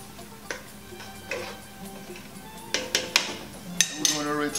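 A spoon stirring chopped cilantro and parsley in a pot, giving irregular close metallic clinks and taps with a few sharper knocks toward the end over a quiet background.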